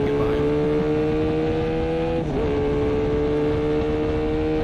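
A 1984 Honda VF500F motorcycle on a hot lap at Blackhawk track gives a loud, close, sustained engine whine with strong harmonics, its pitch dipping briefly at a shift before climbing again; someone talks over it.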